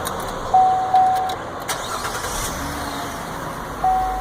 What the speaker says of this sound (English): So shut it off and start it up again, Jake.